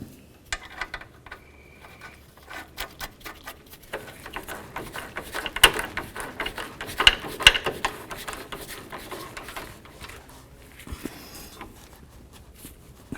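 A ratchet clicks in short, fast bursts as a new nut is tightened onto the rear sway bar link of a 2003–2009 Toyota 4Runner in a garage, the sharp metallic ticks coming close and moderately loud with brief pauses between runs.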